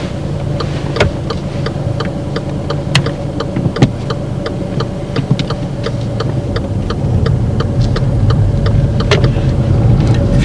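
A car's turn signal indicator ticks steadily inside the cabin during a driving lesson. The clicks are crisp and evenly spaced, running over a low engine hum that rises slightly toward the end. No one speaks.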